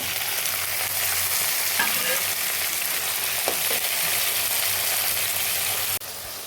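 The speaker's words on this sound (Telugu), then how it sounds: "అల్లం వెల్లుల్లి పేస్ట్ వేగిపోయిందండి. ఇప్పుడు టమాటా వేస్తున్నా." Tomatoes go into ginger garlic paste frying in a pan, with a loud, steady sizzle and some stirring scrapes throughout, close up and without speech.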